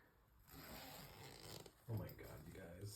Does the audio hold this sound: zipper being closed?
yes